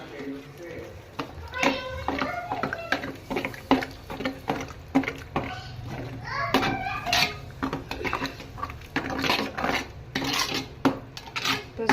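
Pav bhaji is stirred and mixed in a pan, with repeated metal scraping and clanking of a spoon against the pan in irregular bursts while a person talks throughout.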